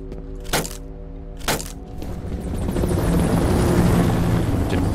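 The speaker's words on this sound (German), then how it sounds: "Mit dem Hubschrauber kommt der Typ an" A helicopter arrives in the video game F.E.A.R., its rotor noise building into a loud, steady roar after two sharp cracks that ring out over tonal game music.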